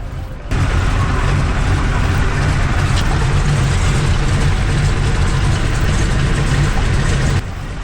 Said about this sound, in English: One by one, the thunderous radial engines come to life.